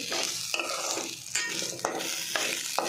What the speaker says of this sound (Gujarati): આપણે ચોખાને 2 મિનિટ માટે સાંતળી લીધા છે